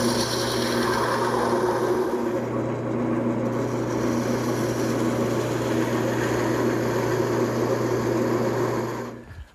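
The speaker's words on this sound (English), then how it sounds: "Now I'm going to switch to a smaller gouge to cut in the details." A small gouge cuts details into a spinning piece of wood on a lathe, a steady motor hum under continuous scraping and rasping that cuts off abruptly at the end.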